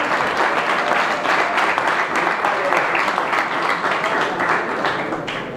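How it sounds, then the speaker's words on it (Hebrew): An audience at a rabbi's inspirational talk breaks into dense, sustained applause that holds steady at full volume for several seconds. The crowd noise stays loud throughout. "הנה הראשון, מגיע למחיאות כפיים"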